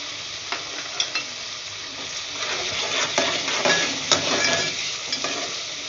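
Chana pulao masala frying in a pan sizzles and hisses steadily as tomatoes go in, with scraping stirs and a few light clinks of a utensil against the pan, close and fairly even throughout.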